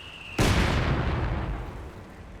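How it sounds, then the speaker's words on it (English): A late-game mortar shell lands in Company of Heroes 2 during a 2v2 match, one sharp loud blast that decays into a long rumbling tail, with no voices over it. "So kind of like a late game mortar coming in for Ruri"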